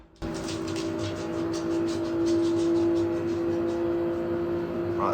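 Car engine in Gran Turismo 7 pulling hard under acceleration, a steady, loud mechanical drone that holds throughout with no talk.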